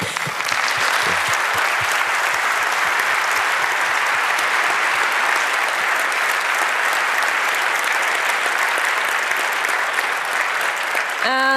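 Audience applause after a conference talk, a sustained, dense burst of clapping from a sizable crowd, loud and even, with a voice coming in just at the end.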